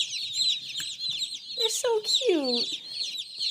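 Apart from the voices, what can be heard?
baby chicks peeping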